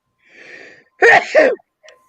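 A sharp inhaled wheeze followed by one loud, close sneeze, then a faint short sniff.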